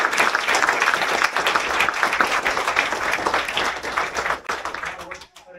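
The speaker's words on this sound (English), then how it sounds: "So let's give them a round of applause." Dense applause for graduating cyber officers at a graduation ceremony, a steady crowd of clapping hands that holds strong and then thins out and fades near the end.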